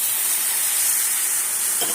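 Water poured into a hot pan of an egg dish, erupting into a loud, steady steaming hiss that carries on continuously for two seconds.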